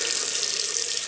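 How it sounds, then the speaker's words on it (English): A tap runs in a steady, close hiss as a shaving razor is rinsed under the water, with no other sounds. "Rinse the razor."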